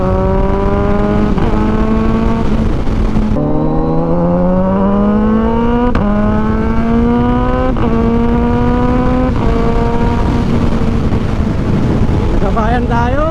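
Big motorcycles, including a Kawasaki Ninja 1000, cruise together on a long highway ride, with a loud steady engine drone and heavy wind rush, engine pitch rising and falling through repeated gear changes, and a voice talking underneath.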